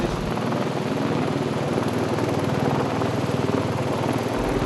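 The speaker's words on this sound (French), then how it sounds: "donc hélicoptère." Helicopter rotors thump steadily and loudly while lifting stadium lighting masts into place, a continuous close whirring beat with no voices.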